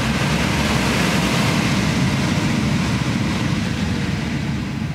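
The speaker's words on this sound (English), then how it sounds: "Tap it again, and you get hot air blowing through it." The windshield defroster fan of a Tesla Model 3 blows hot air in a steady, loud, broadband whoosh that holds constant throughout, with no talking.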